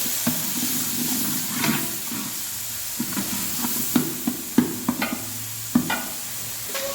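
Garlic and diced tomatoes for wedding-style dal rasam fry and sizzle in oil while a spoon stirs them, with steady hissing and a run of sharp scraping clicks, close and alone.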